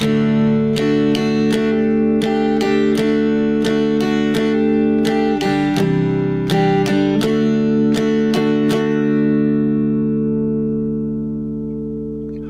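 An acoustic guitar strums chords in a steady down-down-up pattern, changing chords midway, then lets the final chord ring out and fade.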